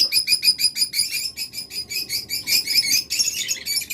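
Pet budgerigars and cockatiels chirping in a rapid, steady series of bright tweets, close and continuous, with no talk over them.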